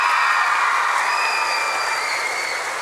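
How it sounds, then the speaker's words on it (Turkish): Loud, dense audience applause fills the room steadily from start to finish on a Turkish TV talent show stage, a continuous wash of clapping with no voices standing out. "Böyle bir alkış yok ya"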